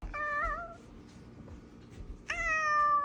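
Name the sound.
cat meowing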